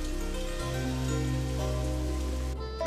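Heavy rain pours down as a steady, even hiss beneath sustained musical tones in a period drama scene, with no talking.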